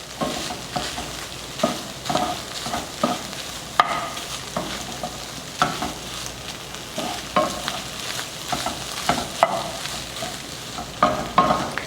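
Onions and peppers sauté in a hot pan for grilled fajitas, a continuous sizzle broken by regular scraping strokes of a utensil stirring the vegetables, close and steady throughout.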